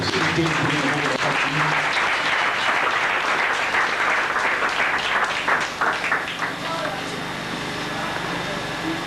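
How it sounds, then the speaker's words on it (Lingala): A church congregation at a prosperity seminar claps loudly and continuously in a dense wash of hand claps, easing slightly toward the end without dying away. "acclamons très fort"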